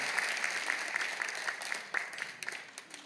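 A church congregation claps in welcome during a Sunday worship service, a steady patter of many hands at moderate distance lasting a few seconds, thinning slightly toward the end.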